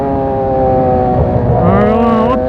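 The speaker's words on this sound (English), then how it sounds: "Or you want to learn how to downshift like this." A motorcycle being ridden in Jamaica downshifts, its steady engine drone sliding through rising and falling revs, loud and close the whole time with no talking.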